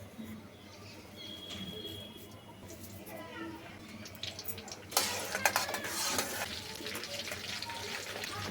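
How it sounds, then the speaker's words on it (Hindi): Onions sizzle and crackle in a hot pan for a chicken gravy, the frying growing louder partway through, with a spoon stirring and a voice speaking nearby. "तड़का हमने रख दिया है, तो प्याज अभी भुनेंगे"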